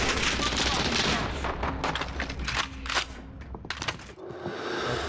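Gunfire in Call of Duty Warzone: a flurry of rapid shots and crackling bursts, fairly close, mixed with game noise and a voice talking over it before the shooting thins out near the end.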